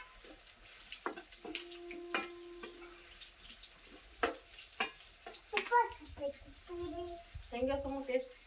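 Bonda bajji fritters fry in hot oil with a soft, steady sizzle, broken by clinks and a few spoon scrapes. Someone talks at times over the frying.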